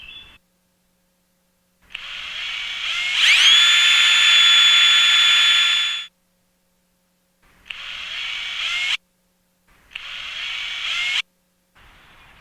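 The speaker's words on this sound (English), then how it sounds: "we're going to want to pre-drill these before we put the screws in so we don't stand a chance of cracking the wood" A power drill pre-drills holes in wood boards for a raised garden bed, whining up to a long steady high-pitched run, then three shorter bursts with pauses between.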